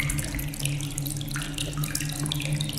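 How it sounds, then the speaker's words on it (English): Water trickling and dripping onto wooden planks in the horror game Among The Sleep, a steady close wet patter with small irregular drops running continuously throughout. "there is the sound of dripping water on planks"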